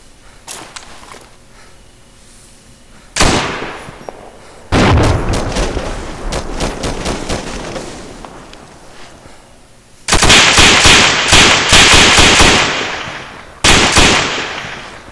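Grenade blast and gunfire in the Arma 2 military game during a night co-op mission, with loud bursts of rapid shots and sharp explosions in several heavy clusters, separated by quieter stretches.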